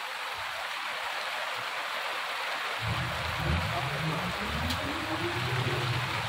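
Steady rain hisses over everything, falling continuously; a voice speaks in the latter half under the downpour.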